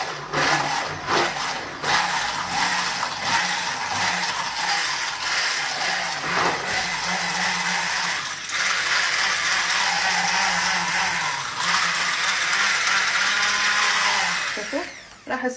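Coffee machine running steadily while frothy coffee is made, a continuous close mechanical whir with faint rattling that holds for the whole stretch and fades near the end.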